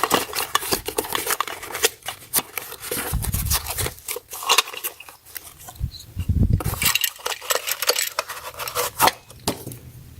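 Plastic packaging of installation hardware for a 2-inch cordless faux wood blind being cut open with scissors, producing close, irregular snips, rustles and small metallic clinks of loose parts with no talking.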